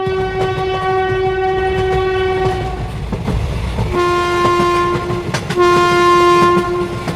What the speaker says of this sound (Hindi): तभी इन लोगों को ट्रेन की आवाज सुनाई देती है, लगता है इन लोगों की ट्रेन आ गई।